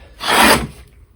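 A Stanley #46 Traut's patent combination plane takes a single short rasping stroke along wood with the grain, a close, dry shaving sound that swells and fades within half a second.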